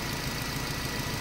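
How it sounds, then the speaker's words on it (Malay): Car engine idling roughly with a fault that makes the engine shake, heard as a steady, dense mechanical rumble close by, brief and unbroken, with no speech. "Yang ni tengok enjin ni bergegar kan."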